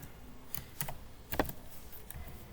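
Code being typed on a computer keyboard: a handful of quiet, irregular key clicks in short bursts, close and soft, with no voice over them.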